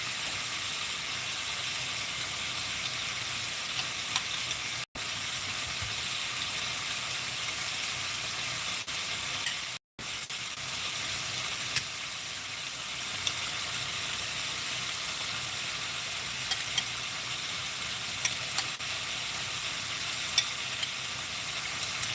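Boneless lamb chops sizzling in a pan with honey and ginger, a loud, steady crackling fry close up with scattered sharp pops and two brief dropouts.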